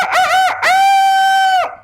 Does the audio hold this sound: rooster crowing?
yes